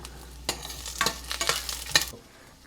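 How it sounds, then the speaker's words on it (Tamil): Peanuts and garlic roast in a pan for chutney, with a soft sizzle under scraping stirs and a few sharp clinks of a spoon against the pan, close and fairly quiet. "வேர்க்கடலை வந்து நல்லா வறுக்கணும்"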